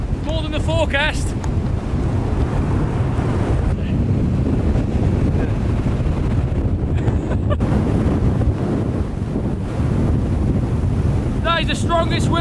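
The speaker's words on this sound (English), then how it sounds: "That is the strongest wind I've ever felt." Very strong wind on a Peak District hilltop batters the microphone in a loud, gusting, steady roar, with short bits of speech near the beginning and end.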